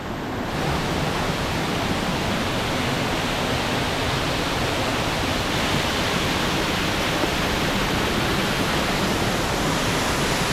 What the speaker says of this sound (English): A little bit of the creek comes down this way and forms a separate little waterfall.